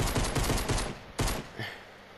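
A fast burst of automatic gunfire in Fortnite Battle Royale, a second burst after a short pause, then a fading tail.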